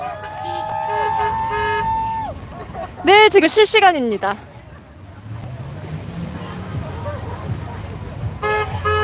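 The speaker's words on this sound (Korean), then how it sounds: "지금 이렇게 차 경적 소리는 같이 호응을 한다라는 뜻이에요." Car horns honk in support of a protest at Laguna Beach in a rapid burst of overlapping toots amid street noise and crowd chatter, with someone talking nearby and more honks near the end.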